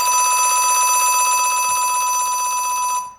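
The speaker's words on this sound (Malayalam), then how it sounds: "നാടകം ആരംഭിക്കുന്നു. Third bell." An electric bell rings continuously for about three seconds as the third bell before a stage play at a temple festival, a loud, steady metallic trill that stops abruptly.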